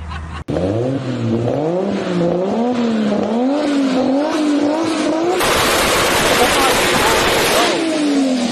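Toyota Supra with a 2JZ engine in a burnout: the revving exhaust wavers up and down loudly, then breaks into a harsh, broadband roar of spinning, squealing tires and bursts that swamps everything, with voices faintly underneath.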